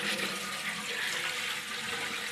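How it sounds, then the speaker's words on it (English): Water is poured into a sufuria cooking pot on an African organic farm, a continuous splashing, rushing flow that stays close and steady throughout with no talk. "Start off by adding the water into this sufuria."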